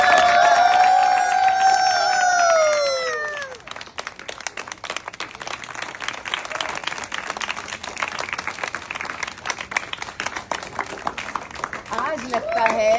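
A crowd at a community iftar gathering breaks into sustained applause of many hands clapping at a moderate distance, following a few seconds of a voice.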